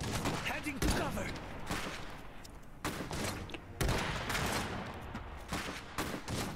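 Rapid gunfire from soldiers in the Iron Harvest strategy game, with repeated loud bursts and volleys, several sharp reports in a row, heavy and close throughout.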